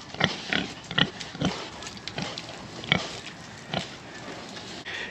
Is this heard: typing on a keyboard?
no